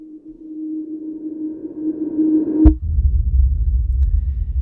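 A rising tonal sweep builds for nearly three seconds, then a deep booming impact hits and a low rumbling tail sustains to the end.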